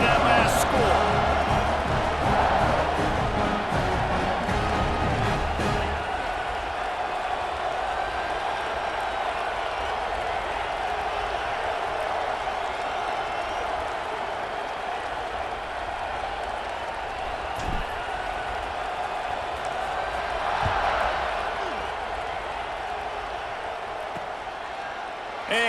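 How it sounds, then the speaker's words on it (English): Stadium crowd at a game in EA Sports College Football 26, a continuous buzzing roar that swells early and again near the end, with voices talking over it. "this crowd is buzzing after that last score"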